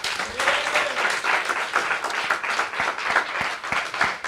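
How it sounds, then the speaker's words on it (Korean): A Korean revival meeting congregation applauds in praise, a dense, steady wash of many hands clapping for several seconds, with faint voices mixed in. "우리 하나님께 박수로 영광 올리겠습니다"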